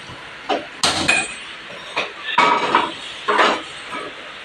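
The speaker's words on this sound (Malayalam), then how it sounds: "പാൻ വെക്കുകയാണ്." A pan set down on a kitchen stove while jackfruit fry is being prepared, giving a few sharp metallic clanks and knocks with short gaps between them, close and fairly clear.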